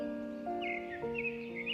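A crow caws a few times, faint and distant, over a steady tonal background hum.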